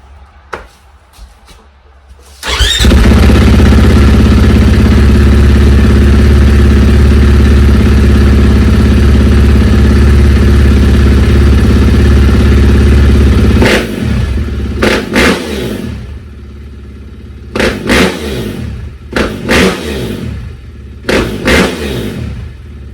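A 450 snowbike engine with a titanium exhaust sputters briefly, then roars into a loud, sustained high rev for about ten seconds before dropping into several short, sharp throttle blips.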